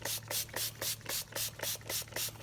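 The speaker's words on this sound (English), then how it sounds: "I use this Angelus leather cleaner conditioner, and what I do is just spray the heck out of them." Angelus leather cleaner conditioner is sprayed onto snakeskin python boots in a quick rhythmic series of about nine short hissing pumps, close up and fairly quiet over a low steady hum.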